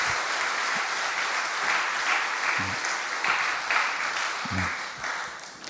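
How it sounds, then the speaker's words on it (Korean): A church congregation at a Friday prayer service applauds steadily for several seconds, a dense wash of clapping heard from within the room. "큰 박수로 목사님 힘내세요. 박수 한번 할까요?"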